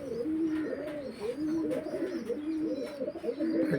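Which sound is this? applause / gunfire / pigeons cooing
pigeons cooing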